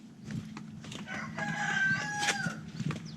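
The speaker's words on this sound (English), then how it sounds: "Bloody rooster." A rooster crows in Thailand, one drawn-out call rising mid-clip amid clucking and scattered bird noises, at moderate distance over low background rumble.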